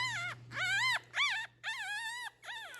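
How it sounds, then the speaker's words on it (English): A puppy whimpers and yips in a string of high, wavering cries while its dew claws are being removed, loud and close with short pauses between bursts. "That puppy's complaining only because of the way I'm holding it."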